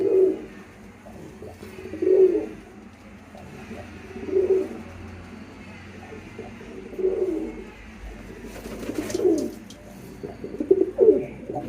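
Pigeons on a farm coo repeatedly in soft, throaty bursts roughly every two seconds, fairly close and heard alone without talk.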